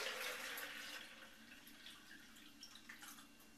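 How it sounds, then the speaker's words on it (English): Chaga tea poured through a strainer, a soft steady trickle and splash of liquid that is loudest at first and gradually tapers, heard alone without talk. "So I'm going to pour it through the strainer"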